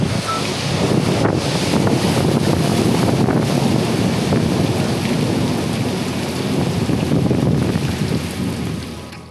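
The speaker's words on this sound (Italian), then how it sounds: "Completamente bloccati per tormenta di pioggia" Heavy, sudden rainstorm with thunder in the Pyrenees during a bikepacking race, a loud steady roar of rain and wind buffeting the microphone, low rumbles rolling underneath throughout.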